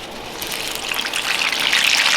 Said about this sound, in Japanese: じゃあそこにね先ほどの休ました唐揚げを入れていきます。